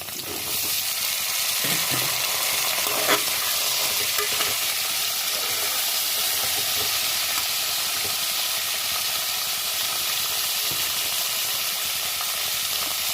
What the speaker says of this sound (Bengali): ফোড়নটা দেখুন ভাজা হয়ে গেছে, এর মধ্যে দিলাম আলু, গাঠি কচু আর ক্যাপসিকামটা